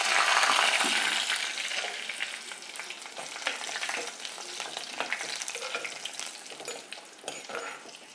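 Dried red chillies, cut into pieces, crackle and sizzle in hot oil in a pan, a loud steady fry that peaks at the start and carries on with brief stirring scrapes and no voices.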